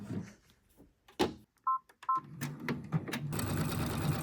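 An embroidery machine working on a hoodie beeps twice for a thread colour change. Soft clicks come first, then a steady mechanical stitching chatter that builds near the end.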